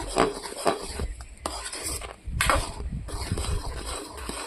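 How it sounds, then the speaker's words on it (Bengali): A spoon stirring raw mango pulp with fried spices in a pan, irregular scraping and knocking strokes against the metal with faint sizzling underneath. "এইগুলো ভালো করে নেড়ে চেড়ে নেব।"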